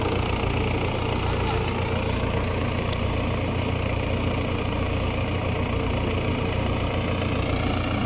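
A Mahindra 475 tractor is towing on a steep climb, its engine giving a loud, steady, low rumble throughout. A voice can be heard faintly under the engine.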